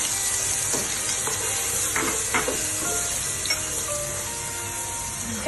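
Ginger garlic paste, added after onion paste for egg korma, sizzles in a hot pan as a continuous bright hiss, broken by a few light clinks and scrapes of stirring.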